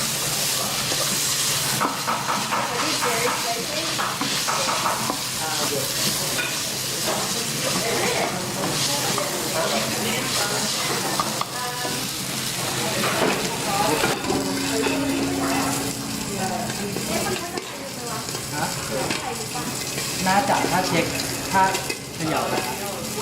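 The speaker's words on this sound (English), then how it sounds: "Now we're making some spicy pork stir fry for chili." Spicy pork stir fry sizzles loudly in a hot pan at a Thai cooking class in Bangkok, with a steady hiss of frying and scraping of stirring throughout, while people talk intermittently over it.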